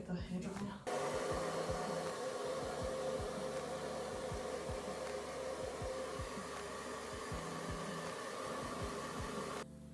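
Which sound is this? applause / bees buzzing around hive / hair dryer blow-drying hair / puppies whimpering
hair dryer blow-drying hair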